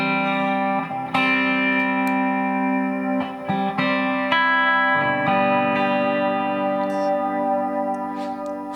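Sustained electric guitar chords run through a pedalboard chain of chorus, Nemesis delay and Ventris dual reverb, with shimmering, smeared tails and echoing repeats between a few louder strums, played alone and fairly close.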